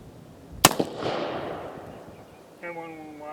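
An 1860 Colt Army black-powder revolver fires a single sharp loud shot with a short echoing tail, and a voice follows.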